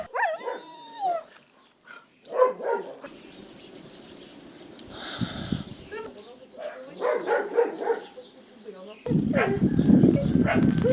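A dog in a shelled rural village yard in Zaporizhzhia barks in scattered bursts while people talk nearby, with wind-like rumble between.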